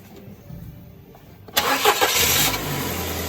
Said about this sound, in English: if you can just start the car up, Tyler.